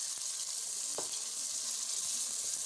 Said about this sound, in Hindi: थोड़ा सा मसाला पानी ऐड करके हम इसको अच्छी तरह से भून लेंगे